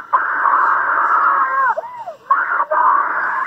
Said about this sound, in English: Jeez, stop screaming, please.